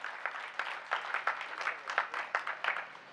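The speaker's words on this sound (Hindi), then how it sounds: "इस देश के सम्मान में जोरदार मिलकर के तालियां बजाइए" Clapping from a crowd at a Rajasthan poetry gathering, heard as a fairly quiet, rhythmic series of roughly regular claps, somewhat distant and sparse rather than a dense roar.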